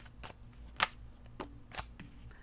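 Tarot cards being shuffled by hand, a series of crisp riffling flicks and soft slaps in an irregular rhythm, close and fairly quiet with no talking.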